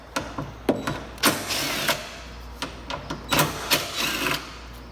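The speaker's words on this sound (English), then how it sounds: "take your 10mm socket and take out these two bolts on the end" A 10mm socket wrench removes the tail light bolts on a Honda Civic, producing a series of quick ratcheting clicks and rattles in short, uneven bursts close to the listener.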